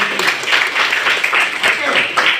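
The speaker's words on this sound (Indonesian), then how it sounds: "Kita beri tepuk tangan untuk Sri." A classroom of students claps for a classmate, a dense, steady burst of applause close by that fills the whole moment at an even loudness.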